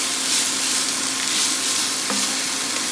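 Onions fry over medium-low heat in a pan for choucroute garnie, a steady, close hiss with faint crackles and a brief stir partway through.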